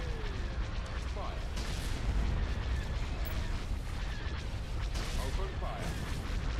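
Starship cannons fire during a space battle in the Star Wars game Thrawn's Revenge, rumbling booms and bursts over a constant dense battle roar, with voices faintly mixed in.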